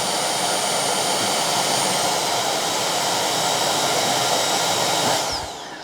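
A Bosch Unlimited 10 cordless vacuum whirs on turbo setting with a loud, steady high-pitched whine, then winds down as it switches off near the end.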